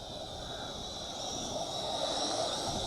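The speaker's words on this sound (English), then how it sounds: "I got a high-flying jet going over us here." A high-flying jet passes overhead outdoors as a steady, broad roar that swells slightly louder toward the end, heard alone without talk.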